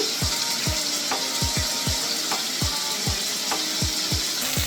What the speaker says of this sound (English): After adding onion, make sure you stir properly and cook for 1 minute approximately.